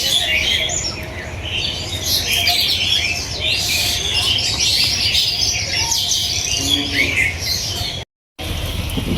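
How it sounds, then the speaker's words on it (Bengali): Birds chirp and tweet busily around a village house, a dense overlapping chorus of bright calls over faint low background noise, with one brief dropout near the end. "আমরা বাড়ির আশপাশে কত সুন্দর পাখি দেখে,"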